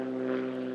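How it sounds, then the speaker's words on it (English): A propeller airplane engine drones steadily at the Purdue University airport runway, a sustained, fairly distant hum with no voices. "There's a constant stream of planes taking off and landing."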